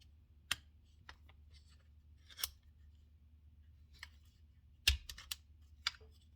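Metal clicks and snaps from an AR-15 lower receiver pivot pin being pushed and worked, a few sharp isolated clicks spread out with a cluster near the end, close and fairly quiet.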